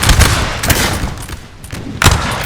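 Musket volleys crack out in a Napoleon Total War 3 line battle, a loud dense fusillade of overlapping shots with several sharp bursts rising from continuous rolling gunfire, close and forceful throughout.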